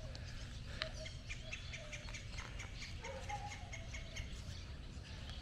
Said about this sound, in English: Birds tweeting.